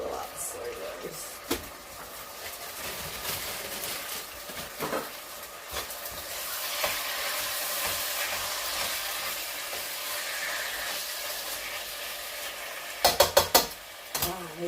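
Meat for fajitas sizzles and fries in a pan, a steady broadband crackle with scattered utensil scrapes and clatters, a sharp burst of clanks near the end, and a voice talking over it.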